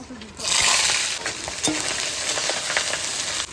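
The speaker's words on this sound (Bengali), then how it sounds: "লবণ দিয়ে দেবো, পেঁয়াজটা তাড়াতাড়ি ভাজা হয়ে যাবে।" Onions fry loudly in hot oil with cumin, bay leaf, dried chillies, cardamom, cinnamon and salt. A bright, close sizzle is broken by scraping stirs and a faint clink, and the frying carries on without talk.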